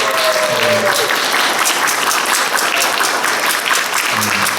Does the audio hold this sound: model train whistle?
no